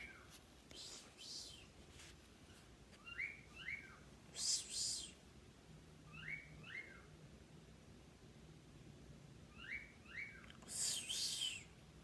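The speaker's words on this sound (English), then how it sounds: "My birds love to whistle." Faint pet birds chirp and whistle in short repeated bursts against a quiet, hissy room background.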